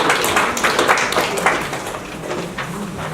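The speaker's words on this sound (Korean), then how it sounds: "따뜻한 박수로 맞아주십시오." Audience at a Korean research forum claps to welcome a presenter, a steady broadband patter of hands filling the room for a few seconds without a break.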